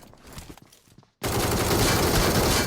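Gunfire in the mobile game PUBG Mobile: after about a second of faint shuffling and near-silence, a sudden, loud, sustained burst of rapid automatic fire fills the rest of the moment.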